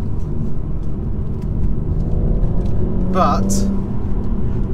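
BMW M2 in Sports Plus mode with manual shifting, a loud engine rumble with a brief rising rev and tyre squeal near the end, with someone talking throughout.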